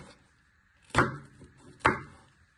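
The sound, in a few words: knife slicing pepper into little pieces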